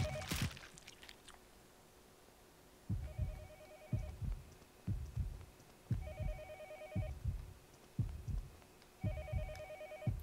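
Ringing phone in the game Yomawari Night Alone, an electronic trill in short bursts every three seconds or so, set against heavy heartbeat-like thumps and a low steady hum.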